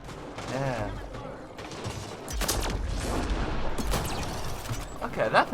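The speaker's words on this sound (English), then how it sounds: "pretty nice pistol. I think this is like the new kind of Vanquisher weapon" A heavy pistol, a new Vanquisher-type weapon, fires in Mass Effect Andromeda multiplayer with several sharp, loud cracks spaced irregularly amid game effects, while a player talks over the action.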